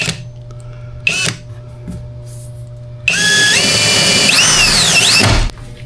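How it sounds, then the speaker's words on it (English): A power drill whirs in a short burst, then runs steadily and slowly for about two seconds with pitch shifts as it bites through a jet ski's fiberglass, near and loud. "you gotta go real slow if you're drilling through fiberglass."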